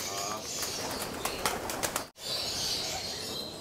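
Racing pigeons in a loft and aviary, giving soft coos and short flurries of wing flaps close by, with a brief gap partway through.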